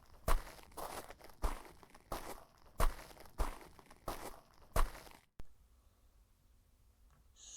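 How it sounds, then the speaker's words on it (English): Seven crunching footsteps on gravel ballast at a slow, even pace, each step loud and close, then stopping into near silence. "he started hearing footsteps walking up the ballast"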